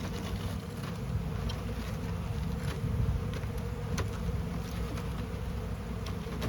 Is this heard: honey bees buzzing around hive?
yes